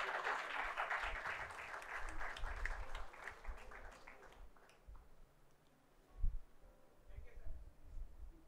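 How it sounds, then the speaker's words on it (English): An audience claps for a top-ranked civil services exam candidate at a felicitation ceremony: a burst of fairly distant clapping for about three seconds that thins into scattered claps and fades, with quiet room noise and a few small knocks afterward. "Please, a huge round of applause."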